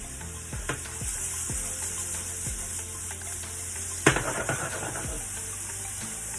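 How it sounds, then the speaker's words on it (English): Vegetables sauté in organic coconut oil, giving a steady soft sizzle with occasional utensil scrapes and one sharper knock partway through. "we're going to saute our vegetables first"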